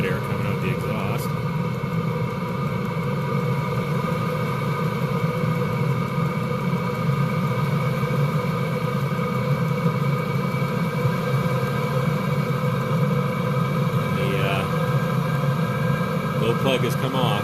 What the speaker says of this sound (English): Very hot air coming out the exhaust.